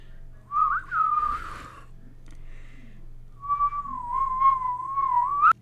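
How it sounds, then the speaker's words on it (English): A person whistles two sustained, wavering tones with a pause between them, close and clear, ending in a quick upward slide. "I can whistle."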